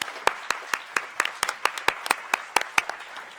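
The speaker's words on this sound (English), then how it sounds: "could I ask you all to please give a round of applause to our panelists?" A small group at a community forum claps for panelists in a loose, uneven patter, sharp individual claps standing out for a few seconds with no voices.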